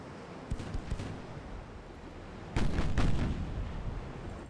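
Naval guns fire from warships in a Ultimate Admiral Dreadnoughts battle: a couple of sharp cannon reports early on, then a louder, heavier salvo boom that rumbles and lingers over a steady low background.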